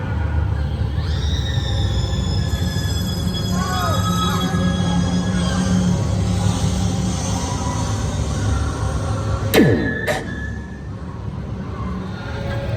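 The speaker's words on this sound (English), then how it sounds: "Oh, it's the black phone." An old telephone bell rings as an effect inside the Black Phone haunted house at Halloween Horror Nights 2024, Universal Orlando. Faint, repeated rings sit under loud, constant crowd rumble, and a sharp sweeping scare effect cuts in near the end.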